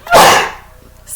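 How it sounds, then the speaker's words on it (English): A single loud, close human sneeze bursts out sharply and then trails off into quiet. "I'm going to sneeze"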